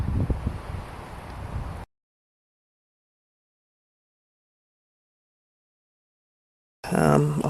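Blustery wind gusts buffet the microphone outdoors by the water on a December evening while fishing, a rough rumbling rush for a couple of seconds, then silence, then a short loud burst of noise at the end.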